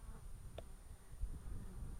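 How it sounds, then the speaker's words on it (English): Honeybees flying in and out at a docile hive entrance on a ranch, a soft steady buzz under quiet outdoor ambience, faint throughout with one brief closer pass. "And you can see little old bees are coming in and going out."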